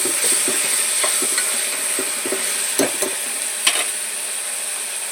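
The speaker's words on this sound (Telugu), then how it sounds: "ఇది పచ్చి వాసన పోయేదాకా కొంచెం ఫ్రై చేద్దాం" Mutton with ginger paste frying in a pan for a gongura curry, a steady broadband sizzle with scraping stirs and a few louder clanks of the utensil against the pan.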